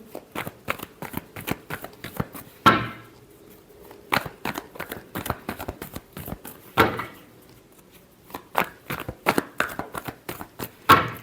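Tarot cards shuffled by hand, rapid close riffling bursts with a few louder slaps as the deck is squared, repeated over several passes without speech.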